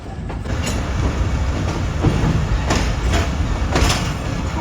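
The Tezgam passenger train rolls along rails toward Karachi in the early morning, a loud, steady rumble with rhythmic wheel clacks and metallic rattles from the carriages, heard from close inside.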